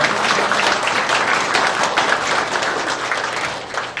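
Applause from a church gathering's audience, a steady, full burst of many hands clapping together that tapers slightly toward the end.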